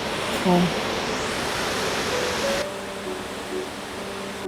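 A waterfall in Banff National Park roars as a broad, steady rush of falling water, loud and close, with brief faint voices and tonal sounds layered over it.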